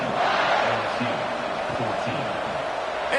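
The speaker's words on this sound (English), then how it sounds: "this crowd is buzzing after that last score" A simulated college football stadium crowd in a Texas versus LSU game roars in a dense, steady wash of buzzing noise after a score, with faint voices within the din.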